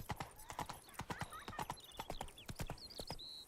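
Rapid horse hooves clip-clopping in a steady gallop in The Witcher 3, loud and close, with a brief whinny and some faint game sounds over the rhythmic beats.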